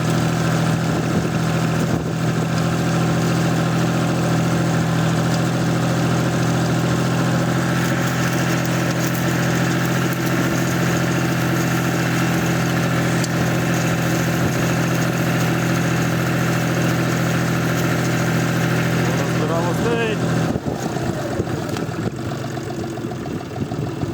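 A tractor engine idles steadily and loudly for the whole stretch, a deep even chug with a brief shift in tone near the end.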